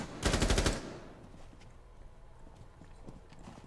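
A rapid burst of automatic gunfire in a shooter video game, loud and close for about half a second, then fading into quieter scattered game sounds.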